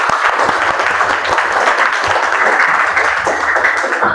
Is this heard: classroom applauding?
yes